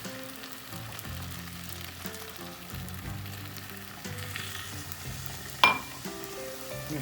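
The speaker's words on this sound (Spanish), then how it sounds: "Mezclamos, seguimos mezclando." Goulash with a glass of wine just added is stirred in a hot pot. A steady sizzle and bubbling carries on throughout, with the scrape of stirring and a single sharp clink near the end.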